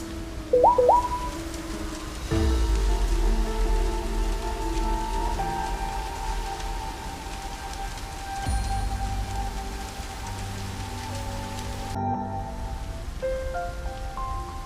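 Rain falls steadily in the video game Life Makeover, a close, even patter that carries on throughout, with soft musical tones and brief game effects layered over it.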